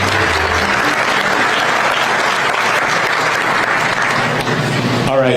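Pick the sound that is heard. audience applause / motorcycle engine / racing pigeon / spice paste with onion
audience applause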